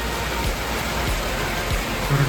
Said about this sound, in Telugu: సడన్గా రెయిన్ స్టార్ట్ అయింది.